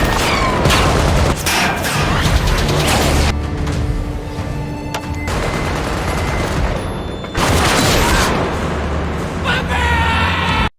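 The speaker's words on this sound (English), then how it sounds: "started shooting wildly at everyone around him" Gunfire erupts in an action film shootout as a man fires wildly at everyone nearby: loud, dense bursts of shots and booms across the scene, with a brief lull in the middle before the firing resumes at full intensity.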